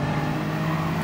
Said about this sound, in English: Bugatti's passing us.